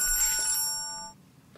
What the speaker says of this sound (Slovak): Zvoním telefón.